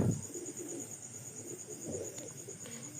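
Pigeons kept for sale cooing softly in a loft or market, low murmuring coos under a steady background hiss, with no talking.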